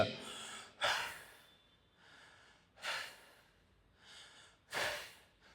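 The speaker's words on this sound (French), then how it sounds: "commencer à respirer à travers la bouche" A person on their back doing a lower-back exercise, breathing out through the mouth in slow, soft, airy exhalations that come at a steady pace, close and quiet.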